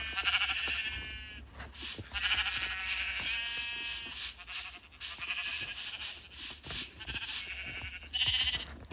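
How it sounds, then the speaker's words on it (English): Sheep in the Minecraft video game bleat in a series of short, repeated calls, close and clear, with clicking game sounds between them and no talk. "So I'm just gonna put a sheep in here."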